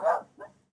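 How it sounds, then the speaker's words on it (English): Dogs barking indoors during a live stream: two short barks, the first louder, the second softer, heard close with no talk over them. "let me go get these damn dogs."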